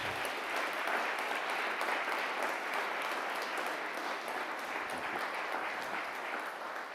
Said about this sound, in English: Well, let's give a big round of applause for Rick Herrera.